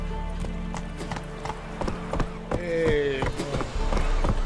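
Roach, the horse in The Witcher 3, trots with steady, close clip-clop hoofbeats over a low ambient game backdrop, while a brief voice and a short whinny-like tone break in near the middle.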